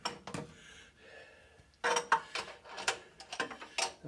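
A ratchet clicks in short bursts while tightening a main bearing cap on a Cat 60 engine, with close metallic clatter and a brief pause between runs of clicks.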